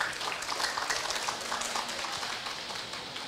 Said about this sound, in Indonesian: Boleh sekali lagi mohon tepuk tangan ya?